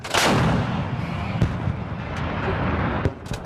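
An M777 towed 155mm howitzer fires during a Marine live-fire exercise, one heavy booming blast up close followed by a long rumbling roll and a few sharp cracks.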